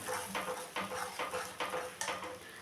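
A curd and paneer mixture is stirred in a pan over a low-to-medium gas flame, with a spoon scraping the pan in regular strokes about every half second and a faint sizzle underneath.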